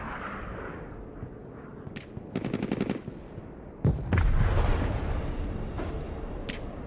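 Artillery and automatic fire in the war video game Broken Arrow: a short rapid burst of machine-gun shots, then a sudden heavy blast followed by a sustained rumbling barrage and scattered sharp cracks, loud and without talk.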